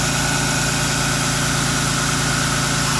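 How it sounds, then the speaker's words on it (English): An old rusted Toyota parts truck engine running with a major exhaust leak, a steady loud close-up rumble with a fast regular puffing throb and no pauses. "Oh, I got a major exhaust leak in here."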